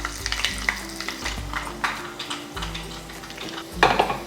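Two dried red chillies, broken into pieces, fry in a small pan of hot oil with mustard and cumin seeds for a pickle tempering. A brisk, close sizzle runs throughout, punctuated by scraping stirs and light metallic clinks against the pan.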